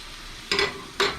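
Pork chops frying in a pan with an herb mixture, their fat cap rendering: a steady close sizzle broken by two sharp hissing surges as the meat is pressed or stirred, with no voices.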